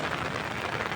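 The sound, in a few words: rain falling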